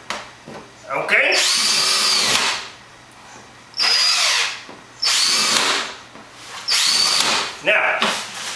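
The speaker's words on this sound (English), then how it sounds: "you gotta drill some holes in there all the way through both of" A power drill whines loudly through two layers of wood on a garden box in four separate bursts, each a few seconds long, with quieter pauses between and a voice briefly at the start.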